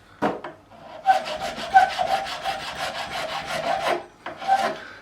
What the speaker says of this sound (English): all of my final filing I'll do with a finer file